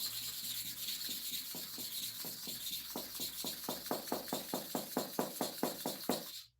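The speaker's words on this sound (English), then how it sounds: "You are trying to activate it to make the surface of the stone very, very effective in sharpening" A knife is drawn to and fro on a sharpening stone in a rapid, close series of rasping strokes, sparse at first and then speeding into a steady, even rhythm before stopping abruptly.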